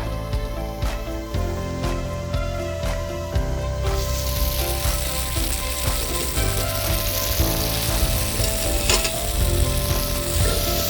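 Noodles fry with garlic in a hot pan, a loud continuous sizzle and crackle that swells as they go in, with occasional stirring scrapes and no talking.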